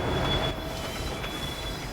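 A Rovos Rail luxury train slowing down, its steel wheels straining against the track with a sustained metallic grinding screech over a dense rumble of rolling rail noise.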